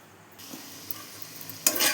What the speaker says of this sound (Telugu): దీంట్లో ఉల్లిపాయ పచ్చిమిరపకాయ కొంచెం వేయించేసుకుందాం మనం